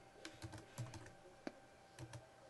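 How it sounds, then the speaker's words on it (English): Keys tapped on a computer keyboard while entering text in an Excel spreadsheet, a quiet uneven run of light clicks heard alone with no talking. "I'm gonna type in here, monthly"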